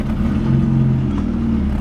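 Barn-find Peugeot 304 engine idling and revving briefly, a steady, close mid-pitched drone lasting under two seconds.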